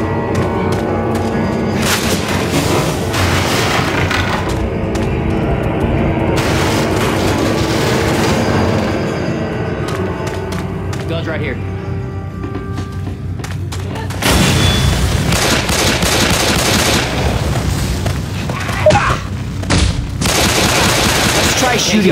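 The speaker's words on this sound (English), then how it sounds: "Shooting zombies instead of people, okay?" Steady gunfire while shooting zombies in Left 4 Dead 2, a dense stream of loud shots and booms running continuously through the scene with game ambience.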